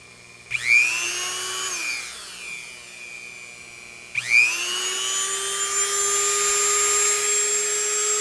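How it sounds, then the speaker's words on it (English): A handheld rotary tool fitted with a small sanding nib works on a lightsaber hilt, whining up to speed twice. Each start gives a rising high-pitched spin, a sharp grinding bite, then a steady close whir. "So I'm gonna use this little sanding, little sanding nib."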